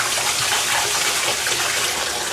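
Rice being washed by hand in a bowl of water for onigiri: a continuous, close swishing and sloshing as the grains are rolled and rubbed, steady and fairly loud, with no voices over it.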